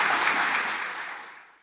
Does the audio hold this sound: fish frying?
no